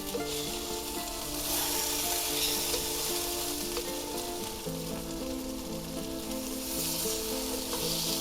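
Hot Italian sausages sizzling in a pan, a dense, loud, continuous crackle and hiss of fat with light shifting as they are turned, close up and unbroken by speech.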